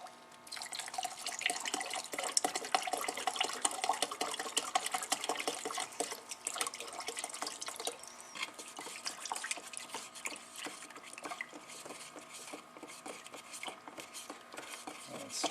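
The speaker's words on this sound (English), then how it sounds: "You want to take your time stirring it because the paint's creating bonds." Car paint mixed with reducer being stirred in a container, a quiet, close, continuous wet scraping and sloshing with fine clicking texture, steady throughout and no talking.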